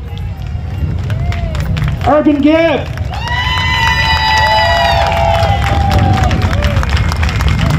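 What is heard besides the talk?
crowd applause and cheering for the Grand Marshal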